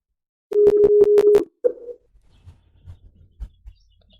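A phone call ringing out while trying to reach staff: a rapid burst of steady, pulsed ringing tones, then a short single tone and quiet low rumbling.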